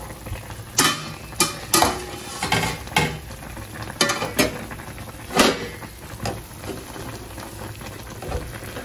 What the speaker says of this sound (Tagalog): kumukulo na po yung ating chicken adobo